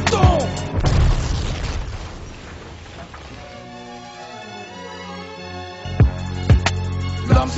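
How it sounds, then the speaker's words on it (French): Explosion of a man blowing himself up on a bus: a loud, booming blast at the start that fades into a long decaying rumble, followed by a few sharp thuds near the end. "L'homme se fait exploser"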